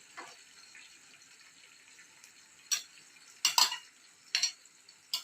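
Vegetables sautéing with cumin and garlic in a pan, a soft low sizzle broken by several sharp bursts of stirring and scraping, close and alone.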